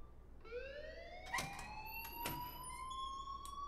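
An alarm sounds in the Life Is Strange video game, rising siren-like tones sweeping upward and holding steady, fairly loud and continuous, with a couple of short bright bursts breaking through.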